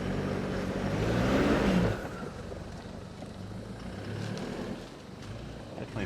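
A 4x4 truck drives on a slippery off-road track, its engine rising to a loud, steady drone before dropping to a lower, uneven rumble.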